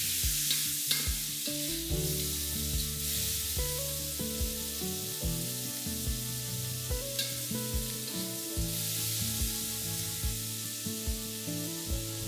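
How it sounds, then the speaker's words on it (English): Dried shrimps and rendered pork frying in a wok with cooking wine, a steady bright sizzle with rhythmic scraping stirs of the spatula, close and without talk. "add in your dried shrimps together with the cooking wine. Fry it till it's fragrant"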